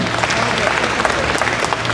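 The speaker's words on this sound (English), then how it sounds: "Give him a round of applause." A room full of people at a community forum in Tuba City claps steadily, a dense patter of applause with some voices mixed in underneath.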